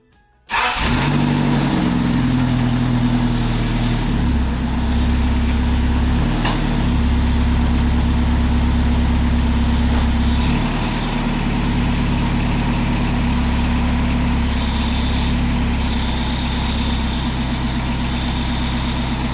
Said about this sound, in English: We're going to warm the engine up, so apologies if it is too loud.